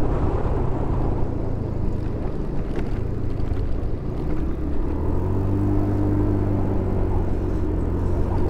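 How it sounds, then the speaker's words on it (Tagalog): Loud motorcycles passing on a rough road during a solo ride from Laguna to Leyte, a continuous rumbling engine roar that swells and shifts in pitch as they go by, heard close without talk. "Grabe motor na yun, ang lalakas."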